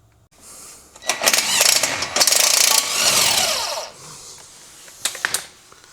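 A power tool whirs and ratchets loudly up close as it works on the seized suspension bolts of an R53 Mini Cooper S, running in a long burst and then two short bursts.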